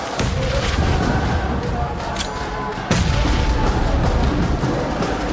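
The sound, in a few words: grenade explosions in PUBG Mobile video game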